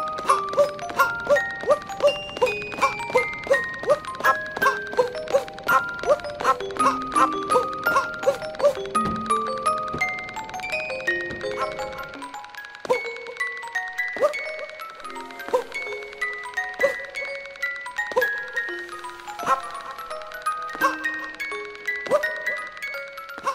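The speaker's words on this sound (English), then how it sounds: "if you jump on the globe, you can hear a couple familiar tunes" Tinkling, bell-like melodic tunes play in Super Mario Odyssey when jumping on the globe, first dense and layered, then sparser single notes ringing out in a bright, steady rhythm.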